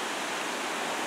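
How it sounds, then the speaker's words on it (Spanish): The Samalá river rushes beneath a hammock bridge, a dense, continuous broadband roar of flowing water, steady and fairly loud with no voices. "Y aquí pasa el río."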